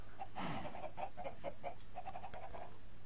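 Chickens in a video game cluck in a steady run of short, evenly spaced calls, close and alone with no talk over them.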